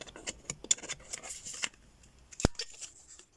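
Scissors snip paper to round off an edge, a few quick light cuts and a sharper close snap, with quiet handling sounds between.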